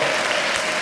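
Crowd of wedding guests clapping together in a dense, continuous burst of applause, loud and close, with no voices standing out.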